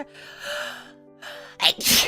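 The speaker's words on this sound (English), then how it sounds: "I'm gonna sneeze." A woman sneezes once, a soft indrawn breath followed by a sharp burst, after some quiet breathy vocal sounds.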